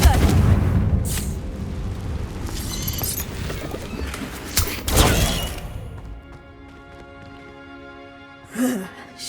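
Confringo blasting spell in the Hogwarts Legacy game, a loud booming explosion with rumbling blast noise filling the first several seconds, then fading into quieter ringing tones and a brief later burst.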